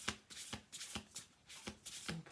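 A deck of playing cards is riffle-shuffled again and again, giving about six crisp, close-up bursts of rapid fluttering card snaps at an even rhythm, with no talk.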